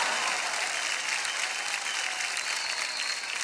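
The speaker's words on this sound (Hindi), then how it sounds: "जोरदार तालियां इसके लिए हो जाए" Studio audience on a televised children's singing competition breaks into loud, dense applause, a steady wash of clapping with some crowd noise, continuous throughout.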